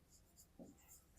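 Faint pen scratching on paper as a maths solution on sets is written out, a few soft strokes over about a second in a quiet room.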